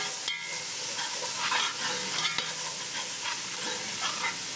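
Garlic sautéing in a soup pot alongside onions for Maryland crab soup, a steady hiss and sizzle with occasional stirring scrapes and a sharp knock or two.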